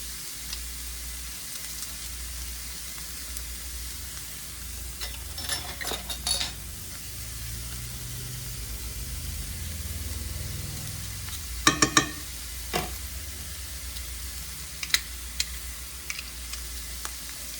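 Minced garlic and onions for a shepherd's pie sizzle steadily in a pan, with a few clinks and scrapes of a utensil stirring partway through and sharp taps near the end.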